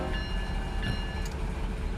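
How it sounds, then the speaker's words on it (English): A steady locomotive horn in Run 8 Train Simulator III blares continuously with a bell ringing underneath, loud and close, no voices. "as soon as you blow the horn, the bell comes on"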